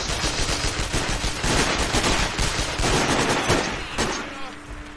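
Gunfire in the Sniper: Ghost Warrior video game, in a level called The Showdown, heard as a dense, continuous burst of shots over several seconds, loud and close, easing near the end.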